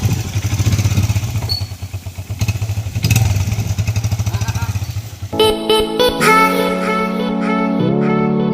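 A motorcycle rides along a rough, muddy village road, its mid-pitched engine chugging in a steady pulse with clattering thumps from the bumps; partway through, loud music takes over.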